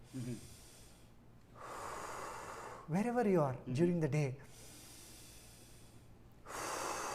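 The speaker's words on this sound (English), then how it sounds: "So what we can do is simple breathing." Slow, audible breaths during a stress-relief meditation session, with hushed inhale and exhale passages alternating with a calm spoken voice giving instructions.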